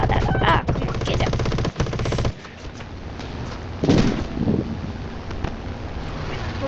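Rapid machine gun fire from an aircraft in the War Thunder combat game, a loud continuous rattling burst over engine and wind noise, then a brief pause and a second burst.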